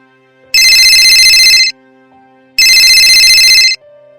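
A phone rings for an incoming call in two long, loud electronic bursts of about a second each, separated by a brief pause, with nothing else heard.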